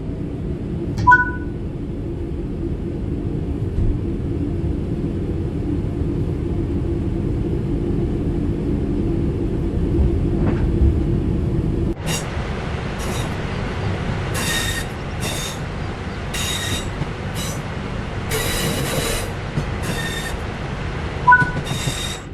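A train rolls along level track with power off in Train Sim World 4, a steady low rumble of wagons and wheels, later joined by repeated squealing wheel noise and short high tones.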